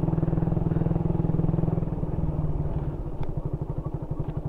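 A motorcycle engine idles close by, a steady low thumping putter that loosens into a slower, uneven chug toward the end, with no voices over it.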